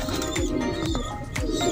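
Rooftop pigeon coos from a black-faced domestic pigeon among kept birds, heard as a few low throaty calls repeating roughly every half second, moderately close, over light ambient noise.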